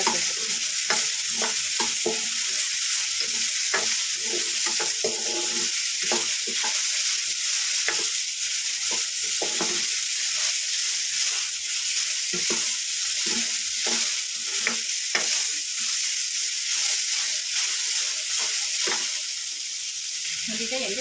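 Ridge gourd for chutney fries in about two spoons of oil, a loud continuous sizzle running throughout with frequent rhythmic scrapes and taps of a spoon stirring against the pan.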